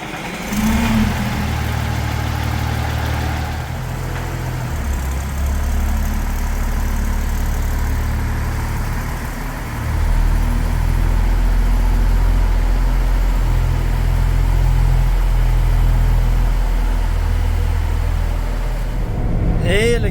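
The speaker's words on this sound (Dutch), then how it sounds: "weer met de DAF even een proefritje maken" A DAF truck engine runs on a test drive, a deep, steady low rumble that drops briefly and then rises again as the engine pulls harder, continuous throughout with a faint voice now and then.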